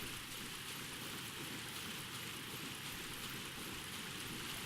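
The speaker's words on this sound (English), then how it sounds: "it's a lovely waterfall" A waterfall in the video game Dark Souls pours as a steady, dense broadband rush of falling water, continuous and even throughout with no talk over it.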